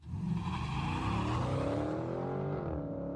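A Dodge Viper and a Dodge Challenger launch in a drag race, engines roaring and rising in pitch as they accelerate away, the sound heard from a moderate distance and fading toward the end.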